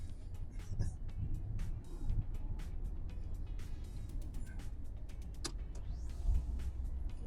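Cars in a workshop area of Musaffah, Abu Dhabi, give steady vehicle noise and low rumble at moderate distance, with scattered clicks and clatter throughout and no clear speech.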